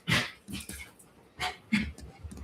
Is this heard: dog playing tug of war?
yes